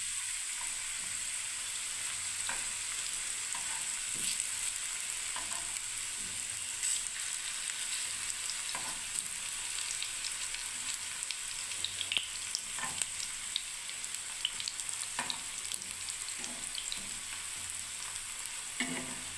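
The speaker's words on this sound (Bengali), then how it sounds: "এবারে খুব আস্তে আস্তে আপনার ভাজতে হবে বন্ধুরা," Dough made with atta and chhana frying slowly in oil over a low gas flame, a steady soft sizzle with faint crackles and pops throughout, no voices.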